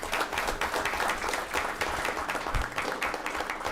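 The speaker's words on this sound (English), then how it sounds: "Give him a round of applause." A crowd at a town commissioners' town hall meeting claps steadily, a thick, continuous patter of applause at moderate loudness throughout.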